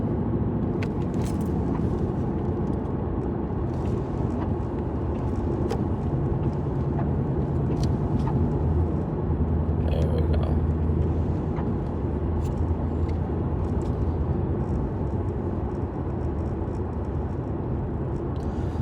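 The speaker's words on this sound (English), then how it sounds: "I know my car needs to warm up" A car engine idles while warming up, giving a steady, unbroken low drone that stays even in level throughout, with no voices over it.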